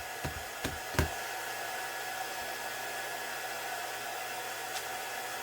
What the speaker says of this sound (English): Turn my heat gun back on.